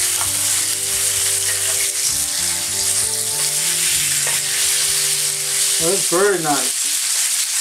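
Marinated salmon searing on a grill, giving a steady hiss and sizzle close up, while music with a clear melodic line plays over it and a voice briefly remarks.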